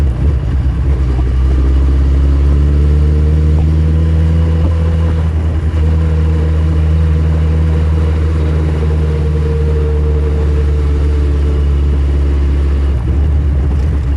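A motorbike engine running in top gear, a loud steady mid-pitched drone with slowly rising and falling revs, close and continuous throughout with no talk.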